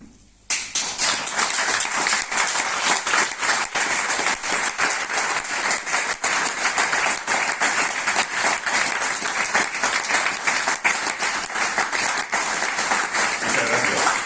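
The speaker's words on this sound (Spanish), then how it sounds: "Un aplauso de pueblo." Applause from the audience at a poetry book presentation bursts in suddenly and holds as dense, loud, steady clapping for over ten seconds.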